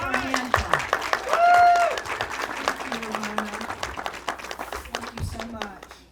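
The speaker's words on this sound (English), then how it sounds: "Let's give her a hand clap." An audience claps for a speaker at a cemetery dedication and remembrance ceremony: scattered clapping at close range, swelling briefly and then thinning, with voices heard through it.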